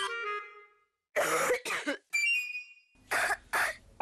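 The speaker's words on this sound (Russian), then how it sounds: "Кашель бывает разный." A series of harsh coughs in short bursts, some paired, loud and close, with a raspy wheeze between them and no talking.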